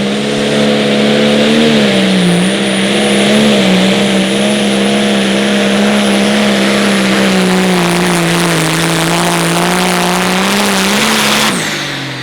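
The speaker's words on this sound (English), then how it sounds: "Clint Medding and a tractor called Bulletproof Buck." A loud, sustained pulling tractor engine roar at a 10,200 Pro Stock tractor pull in Wisner, Nebraska, with a steady droning pitch that wavers slightly, holding strong throughout before cutting off abruptly near the end.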